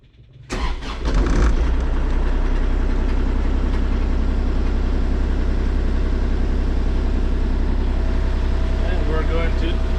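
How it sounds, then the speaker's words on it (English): A Kubota KX040-4 mini excavator engine cranks and catches within the first second, then settles into a steady, loud, low diesel idle that continues without change to the end. "Now I'm going to start the machine and let it run, and the rest of the air will get pushed through the system."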